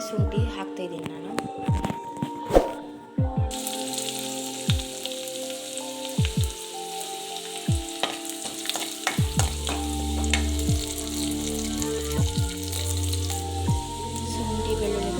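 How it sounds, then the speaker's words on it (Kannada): Garlic and ginger sizzle and fry in oil in a pan, with steady crackling and stirring scrapes throughout, as a person talks over the cooking. "ಬೆಳ್ಳುಳ್ಳಿ ಮತ್ತು ಶುಂಠಿ ಹಾಕ್ತಾ ಇದ್ದೀನಿ ನಾನು."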